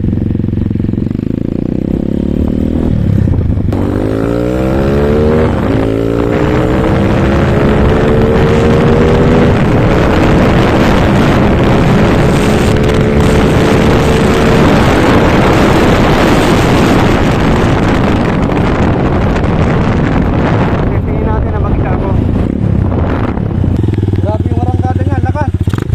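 A KRY 200 motorcycle fitted with an RS8 Red Speed 28mm round-slide racing carburettor roars loudly while being ridden, its engine pitch climbing through the gears, with heavy wind buffeting the microphone throughout.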